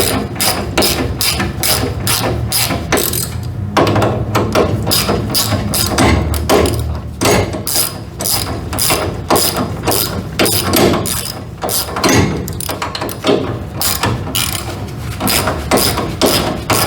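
A ratchet with an extension snugs feeder lugs on a 3-phase 400 amp circuit breaker inside a panel, giving rapid, steady clicking that runs continuously and loud, close by, with no talk.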